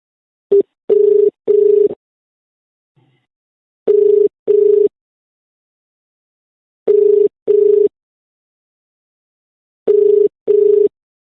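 Repeated paired electronic telephone ringback tones, steady pitched beeps in groups of two separated by silent gaps, heard alone while a call is being placed.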